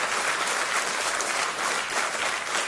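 A studio audience at a televised talk-show interview with Muhammad Ali breaks into steady applause, a thick even wash of clapping that holds its level throughout.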